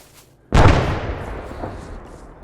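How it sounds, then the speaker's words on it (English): A thrown grenade in ArmA 3's Cold War Rearmed campaign detonates with a sudden sharp blast after a quiet lead-in, followed by a long rolling rumble and echo that fades out. "Throwing more nades over there."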